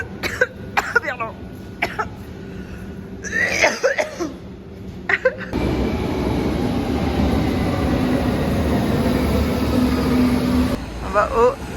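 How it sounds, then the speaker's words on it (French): Metro train ride: first a cough and people talking amid background noise, then a loud, steady rumble and hum of the moving carriage that continues for several seconds before voices return. "On va prendre le métro."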